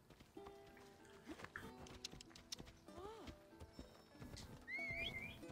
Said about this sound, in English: Pull up my horse.